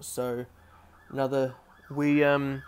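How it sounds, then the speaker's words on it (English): An ambulance siren wails past on a main highway, three rising and falling bursts that grow louder toward the end, with someone briefly talking over it. "We have an ambulance going past at the moment"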